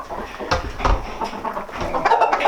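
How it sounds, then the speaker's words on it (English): A jungle fowl hybrid stag clucks in a few short, close bursts over a muffled, uneven background. "And this is just a jungle fowl hybrid."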